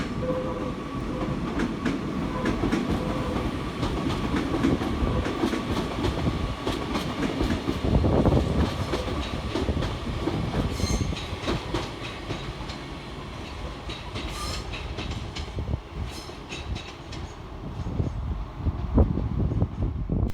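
A Northern Class 331 electric passenger train, unit 331 020, departs on the far side of Crewe station, with steady rumbling wheels and clickety-clack over the rails at moderate distance.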